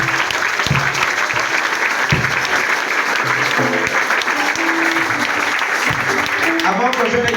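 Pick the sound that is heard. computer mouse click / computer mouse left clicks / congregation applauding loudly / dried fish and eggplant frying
congregation applauding loudly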